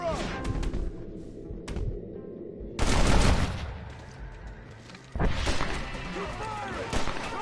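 Gunfire in the video game Red Dead Redemption comes as loud bursts of rapid shots. Two heavy volleys are separated by quieter gaps with scattered single cracks, and voices can be heard in between.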